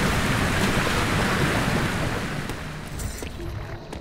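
Rushing water in the video game Metroid Dread, a loud broad wash that fades slightly toward the end, with no talk.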